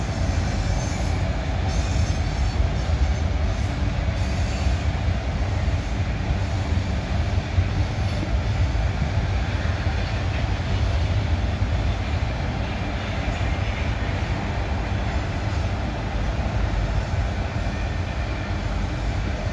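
A freight train rolls beneath a highway bridge on a rail line north of the Abbeville depot, a steady loud rumble of wheels and cars with faint wheel squeal sustained throughout, no voices.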